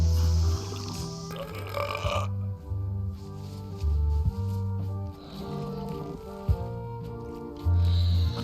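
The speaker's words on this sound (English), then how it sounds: "They're excellent for burping contests." Long, deep, rumbling burps from a burping contest in Return to Monkey Island come in a loud, repeated series with short pauses between them.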